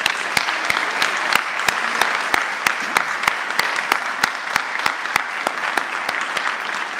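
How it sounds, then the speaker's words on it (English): Sustained audience applause at a school honors night for the standing senior class, an even roar of many hands with sharp individual claps standing out at a steady, near-regular beat. "Can we give our senior class one more round of applause?"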